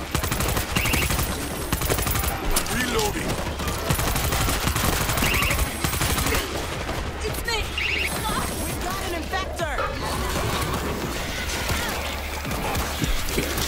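Rapid gunfire crackles in near-continuous bursts during a World War Z zombie shooter match, loud and dense, while someone talks excitedly over the action.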